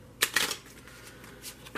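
Tarot cards being shuffled in two short riffling bursts near the start, then a quiet pause before another brief rustle at the end, close to the microphone.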